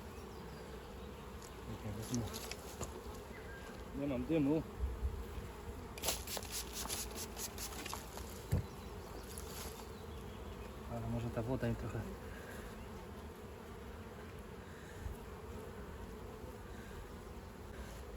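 A dense, steady hum of many honeybees buzzing close by around a hive, rising and falling in pitch, with a person speaking briefly over it.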